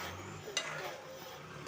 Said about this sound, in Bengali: দিয়ে আমি গাওয়া ঘি দিয়ে ভালো করে নেড়ে চেড়ে নিচ্ছি।